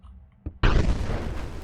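A grenade explodes in the Karlson first-person game: a sudden loud broadband boom after a small pop, followed by a sustained rumbling blast tail that continues to the end.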